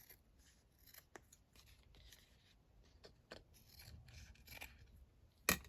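Scissors cutting paper in quiet, close snips and soft scraping cuts spread through the clip, with a sharper crisp snip near the end.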